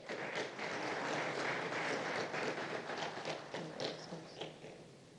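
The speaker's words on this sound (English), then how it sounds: "A round of applause for them." Crowd applause in a hall at a Bank of Ghana 60th anniversary lecture, a steady wash of many hands clapping at moderate distance, swelling briefly and then thinning toward the end.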